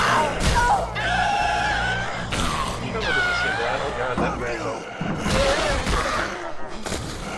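Panicked human screams in Dead Island Riptide ring out repeatedly amid a chaotic game scene, with thuds and shouting mixed in and players talking over it.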